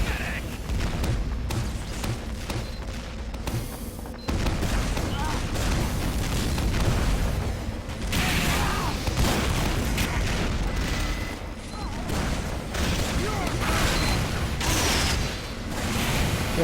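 Sticky bomb blasts go off in a competitive video game match, with deep booming bursts and rumbling explosions under a fast excited commentary voice throughout.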